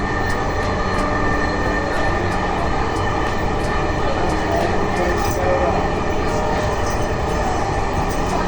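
A metro train runs on the Dhaka line toward Motijheel, a loud continuous interior rumble with steady rail noise and a faint periodic clicking, with a recorded announcement voice heard over it.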